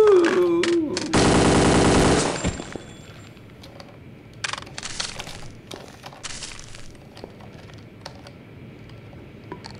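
Gunfire in the video game Kingpin: a loud, rapid burst of automatic shots lasting about a second, with a few scattered quieter clatters and thuds afterward.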